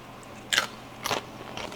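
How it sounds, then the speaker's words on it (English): Crispy tortilla chips crunch between teeth in three quick, sharp bites, close and crisp against a quiet background. "You can hear the crunch."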